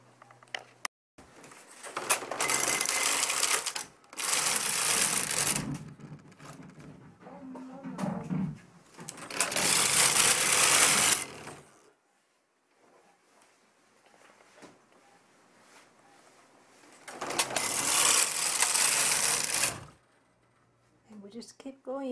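A domestic knitting machine works a tuck stitch pattern set by a punch card, the carriage swept across the needle bed in loud rasping passes of a couple of seconds each, separated by quieter pauses.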